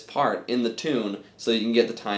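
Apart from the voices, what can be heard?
No everyday noise stands out behind the speech.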